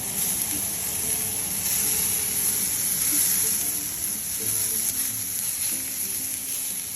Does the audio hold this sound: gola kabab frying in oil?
yes